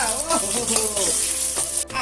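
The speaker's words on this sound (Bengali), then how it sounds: "আলুটারে তেলের মধ্যে দিয়ে দিই তেলের মধ্যে আলু ভাজা হইতেছে" Potatoes fry in hot oil with a steady, close sizzle and soft crackling throughout, briefly stirred.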